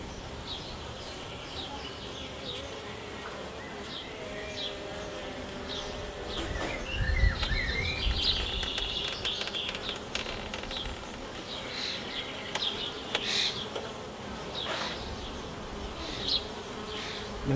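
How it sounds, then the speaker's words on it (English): Honeybees buzz around an open beehive in a steady, close drone with individual insects passing near, plus some handling noise and faint bird calls in the background. "You see the bees are"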